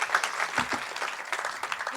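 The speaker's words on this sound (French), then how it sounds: "je pense fort, que ça s'applaudit" A crowd at an awards ceremony applauds with steady, dense clapping that holds for about two seconds, fairly loud and close.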